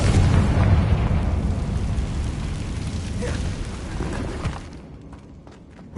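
A Confringo fire-blasting spell explodes in the Hogwarts Legacy video game, a loud broad rumbling blast that rolls on for several seconds before dying away near the end.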